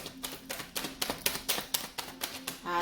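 A deck of tarot cards is shuffled by hand in quick, rhythmic riffles. There are about a dozen crisp, evenly spaced snaps, close and clear, with no talking.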